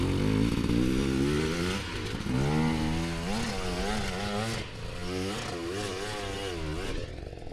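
A KTM or Husqvarna enduro dirt bike engine strains up a steep hard-enduro climb, loud and close, its pitch rising and wavering as the throttle is worked for several seconds.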